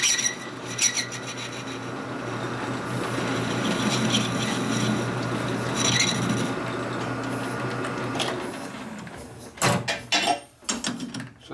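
A carbide bit grinds against a hard, likely original Harley-Davidson part from a 1941 74ci Knucklehead, a steady close rasping drone for several seconds, then sharp louder scraping bursts near the end.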